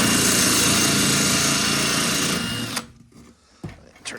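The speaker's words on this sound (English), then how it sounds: "we're going to drill a hole in the bottom of the bucket" An electric drill whines loudly and continuously as it bores a hole through the bottom of a plastic bucket, then stops abruptly, leaving a few light clunks and handling noises.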